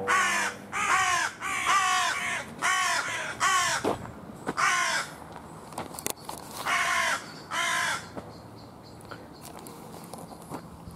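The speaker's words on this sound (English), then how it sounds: "Two ravens, or I think they're either ravens or crows" Harsh, repeated cawing from crows, about a dozen calls in steady bursts, fairly close, with quieter gaps and faint rustling between.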